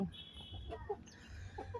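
A rooster about three years old gives a few soft, scattered clucks at close range over quiet background noise.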